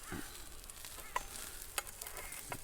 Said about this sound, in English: Nice sear. Render down that fat a little bit.